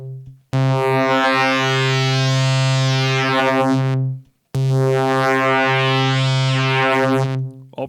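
Two sustained combination-waveform tones from a West Coast synthesizer, each rich in stacked harmonics with a shifting, swirling upper edge, separated by a brief pause; loud and steady, no voices.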